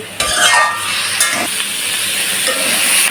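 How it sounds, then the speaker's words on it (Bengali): Jackfruit curry sautéing in a hot pan, a loud close hiss of sizzling oil with a few quick scraping stirs near the start, steady for the rest. "ভালো করে একটু কষিয়ে নিচ্ছি"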